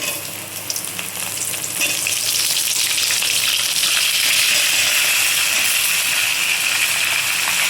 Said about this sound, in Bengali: আমগুলো একটু তেলে নেড়ে নেব